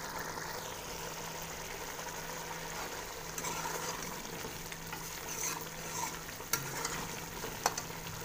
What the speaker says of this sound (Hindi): इसको 5 से 10 मिनट हल्की आंच पे अच्छी तरह भून लेंगे